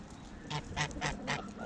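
A goose with a deformed beak gives a short series of about four honks, evenly spaced and fairly close, with no other sounds around it.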